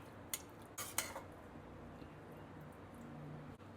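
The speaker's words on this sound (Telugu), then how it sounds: "దీనిలో చివరిగా కర్డ్ వేసుకోవాలి. దీన్ని బాగా మిక్స్ చేసుకోవాలి." Spoon scraping and clinking in a pan as curd is stirred into aloo palak curry, a few sharp metallic taps early on followed by a soft, quiet stirring hiss.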